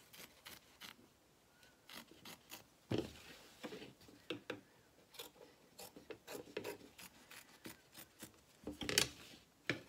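Scissors trim batting on an Easter egg embroidery placemat, a series of short, fairly faint rasping snips and rubbing sounds coming in irregular bursts, with brief pauses and some handling noise between cuts.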